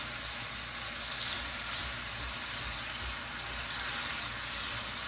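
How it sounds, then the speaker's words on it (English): Thinly sliced fresh garlic sautés in a hot pan, a steady, even sizzle with a faint crackle running unbroken throughout, close and fairly quiet with no voices. "I want to constantly saute them when I have this garlic in here"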